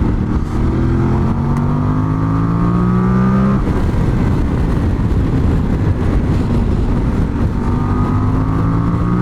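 A Voge 800 Rally motorcycle from 2026 revs loudly and continuously on a small country road, the engine note climbing, dropping briefly around the midpoint, then rising again.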